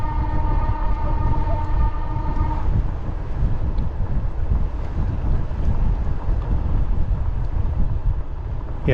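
A train rumbles past close by at a station, steady and loud throughout, with a faint tonal whine in the first few seconds and wind buffeting the microphone.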